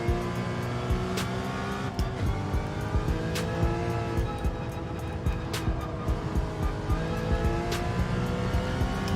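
Porsche Cayman race car in Gran Turismo 7, a steady engine drone with shifting harmonic whine and occasional sharp clicks, continuous at moderate level with no talk.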